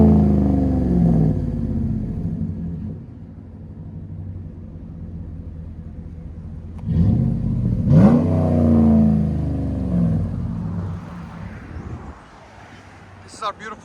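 A 2016 RAM 1500 with a 5.7L HEMI V8 and Flowmaster Super 44 exhaust rumbles deeply at a shop in Nashville, swelling in a couple of revs before settling, with people talking nearby.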